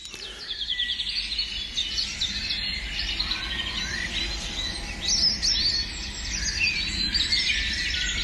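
Many birds singing and chirping around a farm, overlapping high trills and tweets in a busy outdoor chorus, with faint insect buzzing underneath and no voices.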